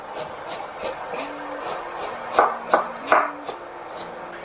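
Knife chopping organic carrots coarsely on a cutting board, about a dozen crisp, evenly spaced chops in a steady rhythm, close and moderately loud, with a faint hum underneath.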